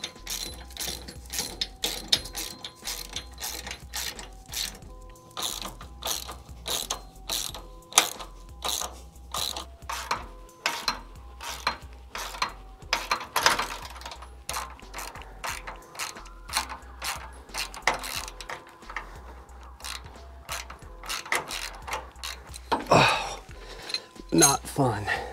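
A hand ratchet tightening nuts on a boat trailer step bracket for a Lund Pro V, steady close clicking strokes repeated in short bursts throughout, with occasional clanks of hardware and some talk.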